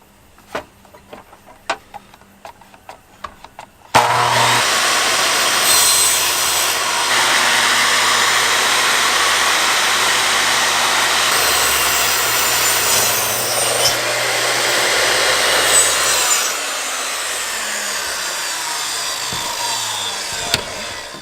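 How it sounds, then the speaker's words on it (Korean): A miter saw set to a 45 degree angle cuts through wood with a loud, steady whine lasting about seventeen seconds, after a few quiet clicks of setup. "45도로 조절을 하고 이 잘리는 각도도 45도로 조절을 해서 잘라 보겠습니다."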